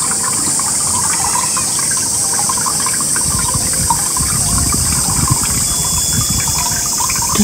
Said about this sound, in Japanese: 水の落ちる音が聞こえましたでしょうか。